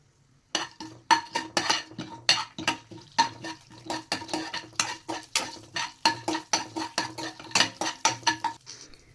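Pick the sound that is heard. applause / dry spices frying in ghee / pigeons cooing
dry spices frying in ghee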